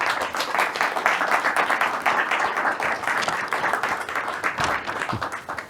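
An audience claps steadily after a speech on Clemenceau, a dense sustained applause at even loudness throughout with no talk over it.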